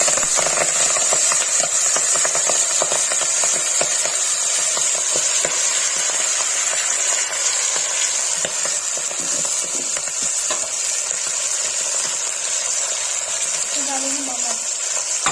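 Collard greens (Kashmiri haakh) hiss into hot oil seasoned with cumin and asafoetida, making a loud, steady sizzle throughout with faint stirring scrapes.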